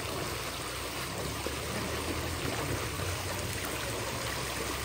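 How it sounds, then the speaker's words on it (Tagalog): A strong stream of running water pours steadily into a container, a constant rushing hiss at even loudness throughout with no talking. "So sobrang lakas po ng tubig guys."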